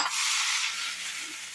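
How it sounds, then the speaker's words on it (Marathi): Onion dropped into a hot tempering of cumin, mustard seeds, asafoetida, curry leaves and crushed garlic, giving a loud, bright, continuous sizzle as it is stirred, close up with no talking. "मोहरी, हिंग, कढीपत्ता आणि ठेचलेला लसूण. 7 ते 8 पाकळ्या घेतल्यात लसणीच्या. आणि त्याच्यात घालायचा कांदा."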